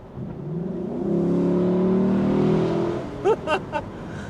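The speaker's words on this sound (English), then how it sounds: "you wake up what sounds like a muscle car engine in this Japanese sports / GT car" A 2026 Lexus LC500 Convertible V8 engine revs up with a rising, throaty roar that builds and holds, then three short sharp blips of the throttle, heard close up.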